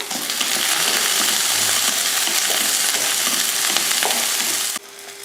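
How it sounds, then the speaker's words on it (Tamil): Shallots, garlic and ginger sautéing in oil in a pan give a loud, continuous close sizzle for nearly five seconds, then drop off abruptly near the end. "ஒரு இருபது போல் சின்ன வெங்காயமும் ஒரு ஏழு எட்டு பூண்டும் சேர்த்துக்கலாம் ஒரு நாலஞ்சு துண்டு இஞ்சியும் சேர்த்துக்கலாம் சேர்த்துட்டு கொஞ்சம் எண்ணெய் ஊற்றி இதை வதக்கிடலாம்"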